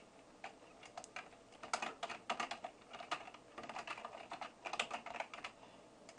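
Someone types C# code on a computer keyboard in quick, uneven runs of soft, close key clicks, with no talking.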